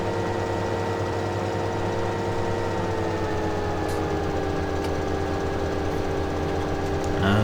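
A steady, loud tractor engine hum in the video game Farming Simulator 17, running at an even pace with a slight shift in pitch and a small rise in level near the end.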